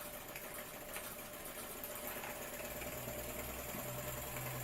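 A Jensen 75 model steam engine fired on solid fuel tablets runs steadily, giving a continuous fast mechanical chatter and whirring hum with no talking.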